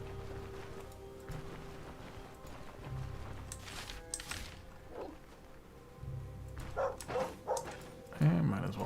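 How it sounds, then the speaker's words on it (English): Dogs barking and yipping in the fantasy RPG Stoneshard, a few sharp barks over game ambience and a low music bed, louder near the end. "Might as well fight the dogs"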